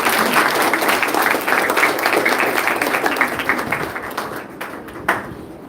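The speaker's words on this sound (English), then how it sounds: "A big round of applause for them." Loud, dense applause from an audience at a school transition ceremony for primary pupils, a steady roar of many hands that slowly thins and fades toward the end, with no talking.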